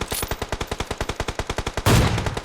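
Automatic rifle fire in the video game PUBG Mobile, a rapid even burst of about twenty close, loud shots, ending in a louder crackling impact.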